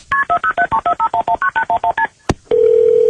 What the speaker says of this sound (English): this 17-year-old grabbed her phone and dialed 911